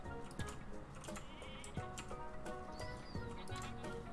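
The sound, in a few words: goat bleating in video game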